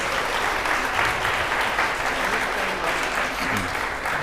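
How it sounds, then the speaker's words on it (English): An audience gives a steady round of hand applause for musicians at a live-streamed performance, dense continuous clapping at even volume with faint voices mixed in. "hand applause for the musicians"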